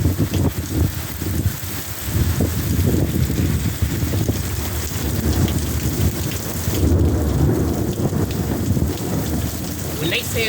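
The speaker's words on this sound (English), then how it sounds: "When they said storms, they didn't say it was gonna be nothing like this." A sudden severe thunderstorm roars steadily with heavy rain pounding surfaces and deep rumbling thunder, dense and loud throughout, with gusting wind and no clear talk.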